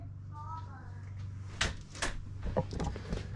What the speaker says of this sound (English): I close the door for you